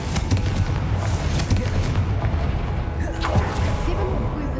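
The Confringo fire spell explodes in Hogwarts Legacy, a dense rumbling boom with scattered crackling impacts that stays loud and heavy throughout, under faint game ambience.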